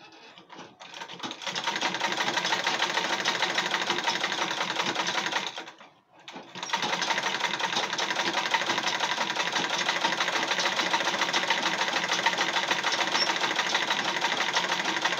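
A sewing machine top-stitching Ankara fabric onto leather for a school backpack, a fast continuous mechanical clatter running steadily close by, broken once by a short pause before resuming.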